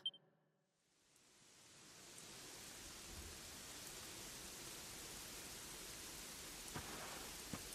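Steady rain in a role-playing video game, a soft, even hiss of falling water that swells in after a brief quiet start and continues alone, with faint low rumbles like distant thunder.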